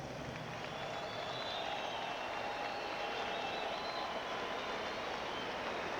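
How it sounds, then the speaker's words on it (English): Steady crowd applause fills a boxing arena throughout, dense and sustained at a distance with no break. "a final round of applause for this great member of the boxing fraternity, Ray Arcel."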